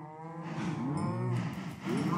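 Cows moo on a farm in the video game Minecraft, with several low, drawn-out moos overlapping closely and steadily at moderate loudness, without any talking.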